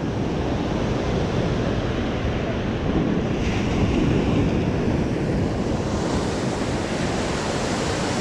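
Waves break on a sloping beach with a loud, continuous roar of surf and gusts of wind buffeting the microphone close up.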